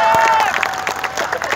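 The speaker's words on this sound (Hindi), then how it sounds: "जो अगली बात कही इस पर तो दोनों हाथ उठा के ताली बजाना" Audience at a Kumar Vishwas poetry event in Samastipur bursting into loud, sustained clapping and cheering with scattered shouts, a dense crowd roar filling the whole stretch.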